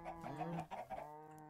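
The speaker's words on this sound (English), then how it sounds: "Every single chicken is on this side of the farm for some reason." Chickens on a Minecraft farm give a run of short, close clucks over a steady game background that continues after the clucking fades.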